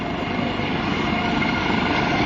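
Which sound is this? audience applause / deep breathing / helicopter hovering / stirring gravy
helicopter hovering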